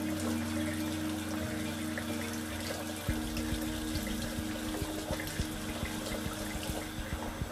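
Water runs steadily from a faucet into a sink while winterizing a Riverstone fifth-wheel RV's water lines, a continuous close splashing rush with a few knocks and drips partway through.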